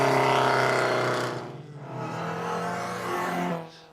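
A race car engine screams nearby in first gear, rising and falling in pitch as it accelerates and pulls away along a practice track.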